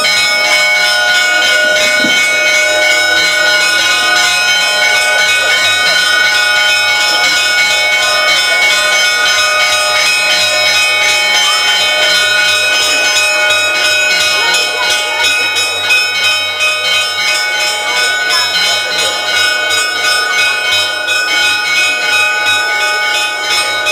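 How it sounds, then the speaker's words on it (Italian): Church bells ring continuously at a campaign rally in Palagonia, Sicily, a dense loud peal with layered metallic tones sustained without a break. "Anche noi rispettiamo le campane, giustamente."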